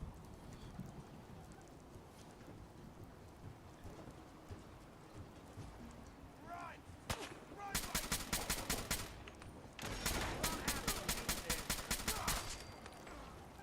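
Very hard difficulty shooter game gunfire: quiet rainy ambience, then two loud close bursts of rapid automatic shots in the second half, with a brief spoken word.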